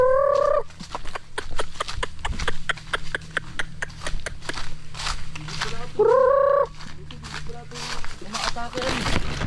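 Chickens cluck and call in a busy yard, with two louder drawn-out squawks standing out over scattered clucking and background chatter.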